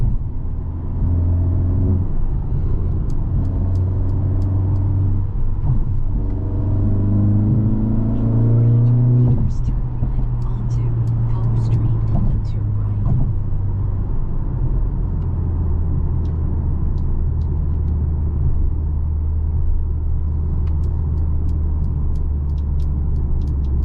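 A 2023 Mercedes-AMG GLA 45 drives along with a steady low engine rumble, rising in pitch as it accelerates through gears, while someone talks over it inside the cabin.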